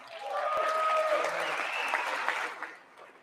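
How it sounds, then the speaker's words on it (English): Sustained applause fills the chamber during the State of the Union address, a broad loud wash of many hands that holds steady, then tapers off toward the end, with faint voices underneath. "I wasn't sure if anybody even on this side was going to applaud for that"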